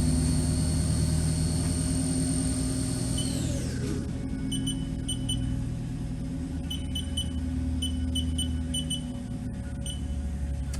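A Haas VF-1 CNC vertical machining center, a 2008 20 hp machine, runs its spindle up toward a top speed of 7,500 RPM, giving a steady close mechanical whine with a pitch shift early on and faint intermittent beeps, no talking.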